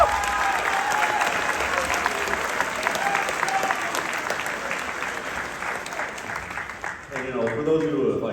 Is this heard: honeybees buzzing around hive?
no